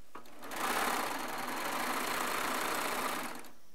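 A serger runs at a steady fast whir as a pink fabric strip is sewn onto jelly roll squares, starting up, holding one even buzzing pace for about three seconds close by, then stopping.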